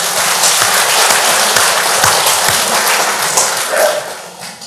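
A lecture audience in Busan breaks into loud, dense applause, a close, sustained roar of many hands clapping that fades out at the end.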